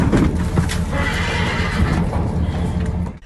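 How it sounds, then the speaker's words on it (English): Evacuated horses at an emergency shelter whinny and neigh loudly up close, with hooves clip-clopping and shuffling underneath, before the sound cuts off abruptly at the end. "These are just a few of the horses evacuated to the Bonita shelter"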